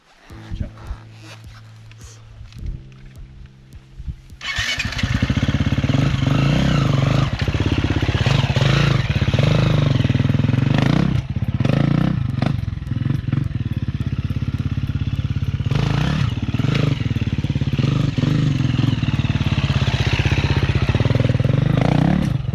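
A trials motorcycle idles quietly, then revs up hard and holds a loud, steady engine drone while riding over a log outdoors, with some clatter, close to the listener and without talk.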